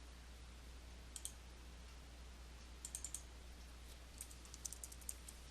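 Typing on a computer keyboard, three short bursts of faint, quick key clicks separated by quiet pauses over a low steady hum.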